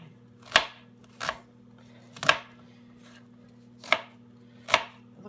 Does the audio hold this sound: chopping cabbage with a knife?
yes